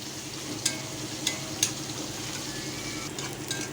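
Food frying in a pan before taro leaves go in, a soft, steady sizzle with a few light clicks as it is stirred, quiet and close.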